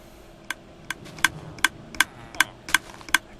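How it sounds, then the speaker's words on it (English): Sharp mechanical clicks repeat at a steady, even pace, about eight in a row, loud and close over a quiet background hum, from a constantly clicking block in Minecraft. "Constant clicking. That annoying sound."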